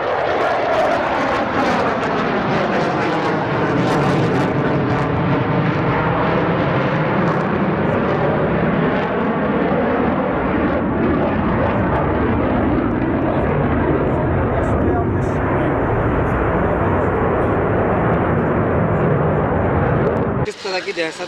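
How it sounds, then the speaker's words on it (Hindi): Loud, sustained roar of a Sukhoi fighter jet circling low over the city of Jabalpur during a military exercise, a broad continuous rumble with a sweeping pitch shift as it passes, filling the whole stretch without pause. "एक सुखोई फाइटर प्लेन ने जबलपुर के करीब 4 से 5 चक्कर काटे"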